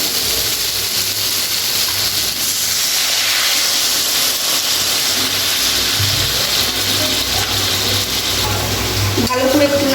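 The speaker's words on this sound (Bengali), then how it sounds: "এবার আমি এর মধ্যে জল দিয়ে দেবো।" Water hits a hot pan of soybean curry, releasing a loud, continuous steamy hiss that rushes on for the whole stretch, close and unbroken, with a faint voice underneath.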